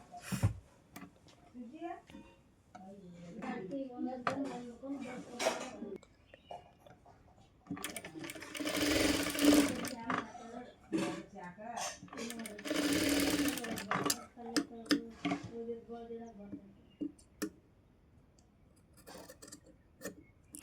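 A sewing machine stitches blouse fabric in bursts of rapid mechanical clatter, stopping and starting between runs, with someone talking over and between the stitching.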